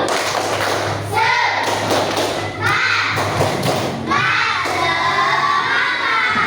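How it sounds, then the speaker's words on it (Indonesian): Indonesian schoolchildren in a classroom do a rhythmic spirit clap, bursts of patterned clapping and thumping mixed with loud children's shouts and chanting, close and lively, in several surges. "Ya, tepuk tangan dulu. Kasih semangat. Tepuk semangat."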